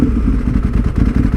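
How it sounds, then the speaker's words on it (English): Yamaha R1 motorcycle with a cross-plane crank inline-four engine, a loud, close, throbbing low rumble with an uneven pulsing beat, steady throughout without speech. "The cross-plane crank Big Bang R1 engine is absolutely biblical when it comes to the actual noise"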